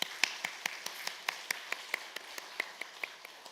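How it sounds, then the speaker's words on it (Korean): A church congregation claps to welcome and bless a member back after cancer treatment, a steady rhythmic beat of distinct hand claps at moderate volume with no voices. "잠시 일어나 주시면 우리 환영과 또 위로의 축복의 박수 같이 하겠습니다"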